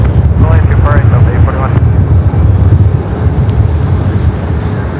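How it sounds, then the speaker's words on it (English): Heavy Airbus A330 rolling out after landing at LAX, a loud low engine rumble with wind buffeting, a brief tonal radio-style voice at the start and continuous roar afterward. "caution wake turbulence, heavy Airbus 330 rolling out"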